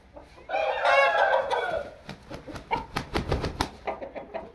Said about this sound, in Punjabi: ਇਹ 3 ਕਿਲੋ ਦਾ ਕੁੱਕੜ ਹੈ,